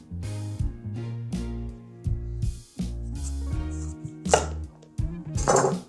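A kitchen knife cutting the end off an acorn squash, heard as a few close, firm chopping strokes with pauses between, each a dull crunch through the hard rind into the board, without talk.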